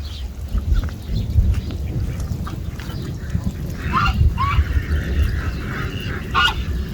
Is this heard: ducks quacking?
yes